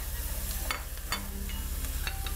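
Leek and celery hitting a hot pan of garlic for an Indian-style picadinho, giving a soft continuous sizzle with a few stirring scrapes and clinks over the top, close and moderately quiet, no talking.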